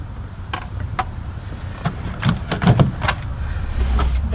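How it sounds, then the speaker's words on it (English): Interior door panel on a 2004 Ford Mustang being pried loose, giving a series of sharp plastic clicks and pops from the clips with scraping in between, close and fairly loud over a low background rumble. "this door panel should pop off there"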